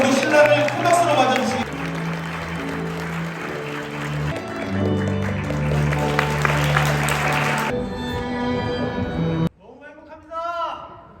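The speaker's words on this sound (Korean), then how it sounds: "여러분 박수가 끊이지 않도록" Applause from wedding guests as the groom enters, steady clapping under sustained music tones and a loud voice on a microphone, then a sudden cut to quieter speech near the end.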